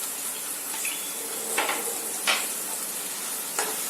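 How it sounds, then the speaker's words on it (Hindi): Finely chopped garlic and green chilies sizzle in hot oil for a turnip sabzi. A steady bright hiss runs throughout, with a few louder crackling bursts and light stirring clicks, and no voices. "अब हम इसमें डालेंगे लहसुन बारीक कटा हुआ, हरी मिर्च बारीक कटी हुई।"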